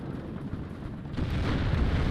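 Explosions from an MW-1 munitions dispenser strike hitting a town in the strategy video game Warno: a dense, rumbling barrage of overlapping blasts that grows louder and heavier partway through, with no talking.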